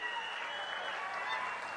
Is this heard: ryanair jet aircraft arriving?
no